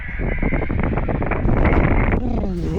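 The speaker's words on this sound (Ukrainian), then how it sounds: "вітер сильний зразу тебе обфачує" Strong wind at a lake during a thunderstorm buffets the microphone in a steady, roaring rush, loud and close, with a faint voice-like sound emerging toward the end.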